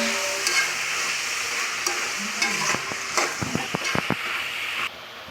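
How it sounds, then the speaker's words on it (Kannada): Chopped tomatoes frying in oil for tomato bath, a steady close sizzle running throughout with a series of sharp scraping and stirring knocks from a spoon against the pan, then the sizzle drops away abruptly near the end. "ಹೆಚ್ಕೊಂಡಿರೋ ಟೊಮೆಟೊ ಹಾಕಿ ಫ್ರೈ ಮಾಡ್ಕೋಬೇಕು."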